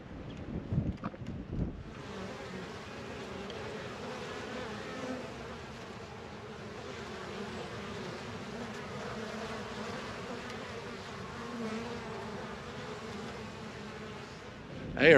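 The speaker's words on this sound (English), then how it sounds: "Look at my bees over here." Honey bees swarm busily around backyard hives, a continuous soft buzzing drone mixed with light wind noise, with a couple of louder bumps near the start.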